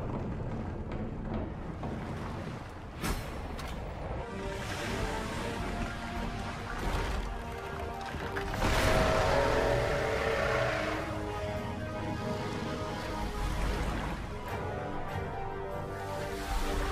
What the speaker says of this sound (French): The ship lets out a deep groan, then cracks.